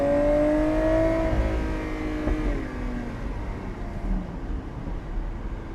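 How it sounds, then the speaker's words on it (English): A Lamborghini Aventador SVJ Roadster's V12 engine revs down, its tone falling away into a rumbling overrun under steady road and wind noise, with no distinct sharp cracks or pops standing out. "You just hear that V12. Oh, jeez. The cracks and pops."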